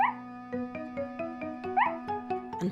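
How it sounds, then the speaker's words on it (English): Snuffy, a cartoon dog, barking over and over against a soft animated-show musical backdrop, a quick run of short yips and woofs spaced in a lively rhythm. "they heard Snuffy barking and barking"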